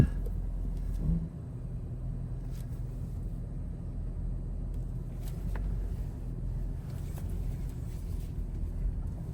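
A 5th Gen Toyota 4Runner idles with a low, steady engine rumble, easing slightly after a brief bump as it is shifted into drive.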